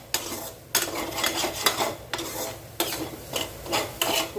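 A spoon stirs and scrapes food sautéing in a pan after salt is added, in repeated close, loud scraping strokes with short pauses between them and no talking.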